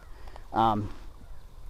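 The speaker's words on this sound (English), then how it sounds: "there's a lot of bird action right now." Birds calling outdoors over soft, wet muck, a single harmonic caw-like call rising briefly above a steady low background, moderately near.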